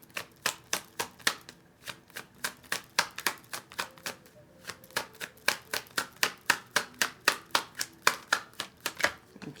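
A tarot deck is shuffled by hand in a fast, even rhythm of crisp riffling snaps, about thirty quick strokes, close and alone with no voices.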